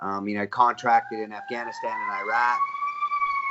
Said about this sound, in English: so now that's the ambulance